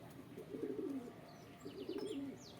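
Outdoor pigeons coo in two low, burbling phrases, quiet and nearby, while a few faint, higher bird chirps flicker in the background.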